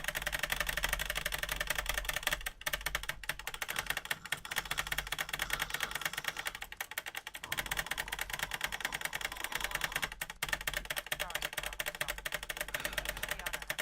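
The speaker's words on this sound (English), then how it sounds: "mechanical keyboard time" Rapid clicking of mechanical keyboard keys, dense and continuous with a few short pauses, heard alone at close range against a steady noisy background.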